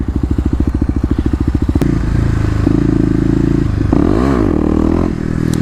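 A Kawasaki KLX250 dirt bike loud and close, its single-cylinder engine thumping steadily, then revving harder as the front wheel lifts, with clattering and scraping over rising engine drone.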